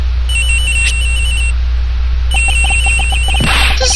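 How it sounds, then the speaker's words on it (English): A cell phone rings from inside a locker in the Ace Attorney Investigations game, a repeating electronic ringtone in two bursts of bright beeping over a steady low hum. "has gotta be the victim's cell phone"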